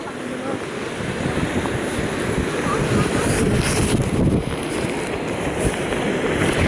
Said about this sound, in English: Seeing the waves roaring